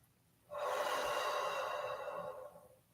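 A single long, deep breath drawn during a seated yoga stretch, steady and close, rising suddenly and holding for about two seconds before tapering away with no talking.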